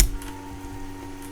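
Game sounds from Roblox Skywars play at low level for about a second and a half: a steady tonal hum with a few soft, brief clicks and taps over it, with no voices.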